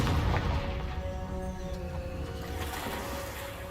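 A Confringo blasting spell from Hogwarts Legacy detonates with a deep boom right at the start, its rumble fading over a sustained musical score.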